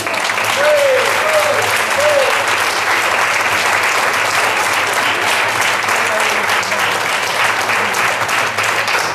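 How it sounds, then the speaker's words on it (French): Sustained audience clapping fills an awards evening, loud and even for several seconds, with brief voices over the start. "vous aussi qui avez contribué dans les organisations, vous méritez tout autant les applaudissements."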